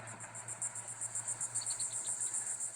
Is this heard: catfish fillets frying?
no